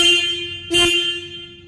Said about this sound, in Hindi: मैं आप सबको हॉर्न का साउंड सुनाता हूँ।